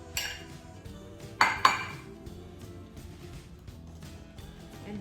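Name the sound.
mixing mashed bananas and ingredients in a bowl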